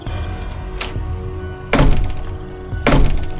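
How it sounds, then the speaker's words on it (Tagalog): A door bangs loudly three times: a lighter knock, then two heavy, booming thuds about a second apart, each with a short echo, with no talk. "Nagulat ako nang kumalabog ang pinto."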